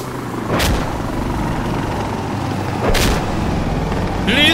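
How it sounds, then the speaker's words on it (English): Attack helicopter in a video game, a loud continuous rotor and engine rumble with two sharp booming blasts cutting through, close and intense. "Incoming hostile chopper!"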